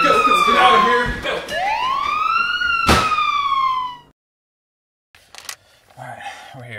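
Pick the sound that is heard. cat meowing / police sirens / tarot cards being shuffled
police sirens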